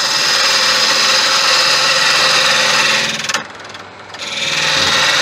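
A lathe cuts a tenon on a large crossgrain tigerwood snowman blank, giving a loud, steady scraping rasp that dips briefly near the end before resuming.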